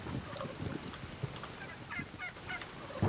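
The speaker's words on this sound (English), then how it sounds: "Got a bunch of turkeys. You right, turkey gobblers?" Turkeys in the survival video game Soulmask give faint gobbling calls in short bursts against a low, steady rain and storm ambience, with no speech.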